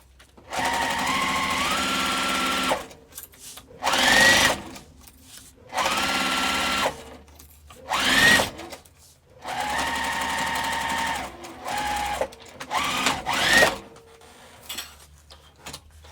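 A sewing machine stitches down the sides of a crossbody bag in several loud, steady bursts of a few seconds each, with short pauses and a brief back stitch between runs.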